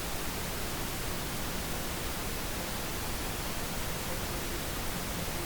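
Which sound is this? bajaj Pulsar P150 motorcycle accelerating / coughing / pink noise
pink noise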